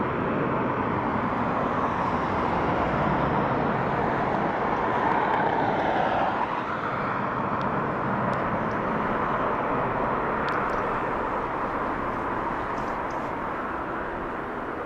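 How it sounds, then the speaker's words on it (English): An Iberia Express airliner from Madrid lands at Dublin Airport, a loud sustained broadband jet roar that swells and slowly fades over about fifteen seconds, heard outdoors without talk. "So Iberia Express coming in from Madrid."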